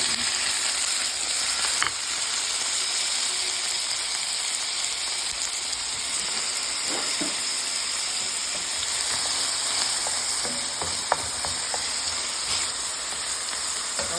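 Onions and peppers frying in hot oil give a loud, continuous crackling sizzle, close by and steady throughout, with a few faint clinks of a utensil and no talking.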